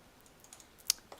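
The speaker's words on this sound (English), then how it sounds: "So what we can just do is just manually type." A few soft keystrokes on a computer keyboard, quiet and close, with one sharper click near the end.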